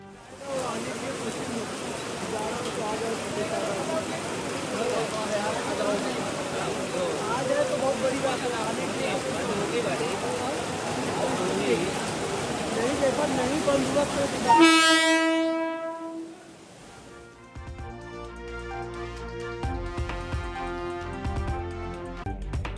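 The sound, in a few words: passenger train rushing through floodwater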